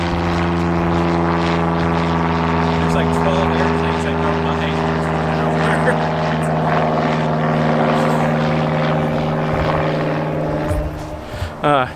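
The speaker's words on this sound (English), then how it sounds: "It's the airplane." A low propeller aircraft drones loudly and steadily overhead near an airport, its engine hum with strong tonal harmonics holding throughout and shifting pitch slightly as it passes, with people talking faintly underneath.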